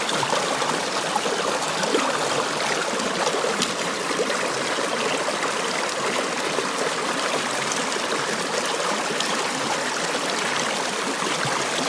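Creek water rushes steadily through a gold sluice box, a dense continuous wash of flowing and splashing that stays loud and close for the whole stretch, with no voices.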